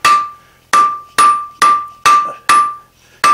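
Hammer blows on hot steel drawn into a square taper over an anvil horn: seven sharp, ringing metallic strikes at a steady, even rhythm, each decaying before the next, close and loud with no talk.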